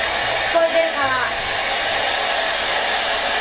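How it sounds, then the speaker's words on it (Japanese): Steady, loud whoosh of a hair dryer blowing close by throughout, used while peeling and smoothing Daiso remake sheet wallpaper in a room, with no talking. "ドライヤーの音で全然聞こえない気もするけど"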